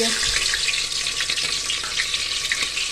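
Green chillies sizzle in hot oil in a home kitchen pan, a steady broadband crackle and hiss holding at an even level throughout with no talking.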